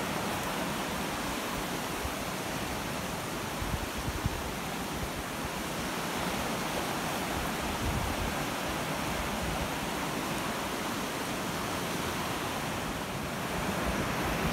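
A farm creek running high after rising water pours and rushes steadily, a broad continuous wash of flowing water with no voices.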